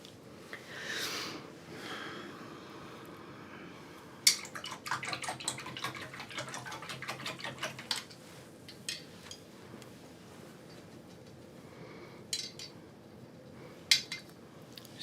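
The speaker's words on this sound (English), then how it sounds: "Just wetting down these brushes so they don't dry out" Paintbrushes swished and rinsed in a water container at an acrylic painting desk, a burst of quick wet sloshing and clinking strokes in the middle, then a few isolated knocks against the container, close and moderately loud.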